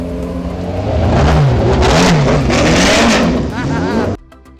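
An Allard J2X-C race car passing close by, its engine rising and falling with a revving, accelerating roar before cutting off abruptly, with someone talking over it.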